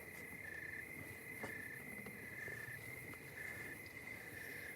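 Crickets chirp steadily through the night in a dense, continuous pulsing trill that holds at a moderate level, joined by a faint, thin hiss of other insects in the background.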